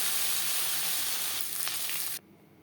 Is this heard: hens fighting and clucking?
no